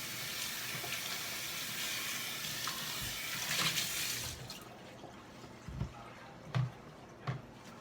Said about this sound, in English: So I'm gonna have to rinse this one.